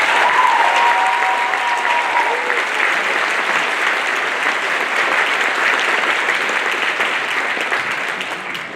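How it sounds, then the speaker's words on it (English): Large audience at a high school scholarship awards ceremony breaks into sustained, loud applause that fills the room steadily and tapers slightly at the end, with a brief voice or cheer near the start. "We give them a huge round of applause"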